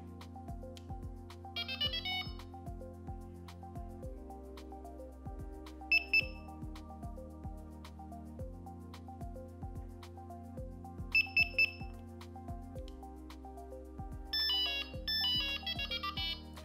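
A Txi-D vehicle alarm unit undergoing a factory reset lets out small electronic beeps, first a pair, later a quick cluster of three and then a burst near the end. They sound quiet and near over a steady electronic music backing.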